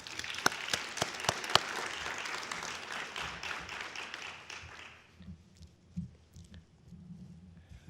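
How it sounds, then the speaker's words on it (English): Audience applause for Tom McCann at a Boston University Friends of the Libraries event, a moderate round of clapping with a few sharp nearby claps that fades out after about five seconds, leaving quiet room noise and faint shuffling. "May we now have another round of applause for Tom."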